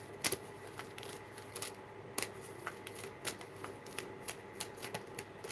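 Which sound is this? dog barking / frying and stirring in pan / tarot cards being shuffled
tarot cards being shuffled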